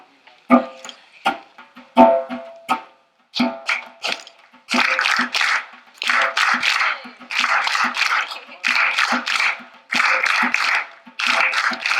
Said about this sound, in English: So I'm going to ask you guys to clap, okay?